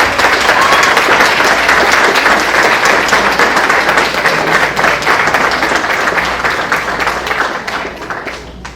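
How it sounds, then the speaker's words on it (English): An audience at a school co-curricular awards ceremony gives loud, sustained applause, many hands clapping densely together before it tapers off toward the end. "How about another round of applause?"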